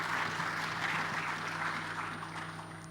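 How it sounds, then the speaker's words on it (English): An audience applauds steadily after a panel discussion on next-generation aviation professionals, a dense continuous clatter of clapping that fades slightly toward the end. "A round of applause."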